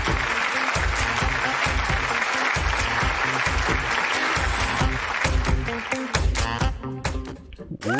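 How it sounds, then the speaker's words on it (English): An audience claps and cheers continuously and loudly at a live entertainment show as a mentalist is introduced, the applause dense and sustained throughout before thinning slightly near the end. "Put your hands together for the unbelievable Jan Markson."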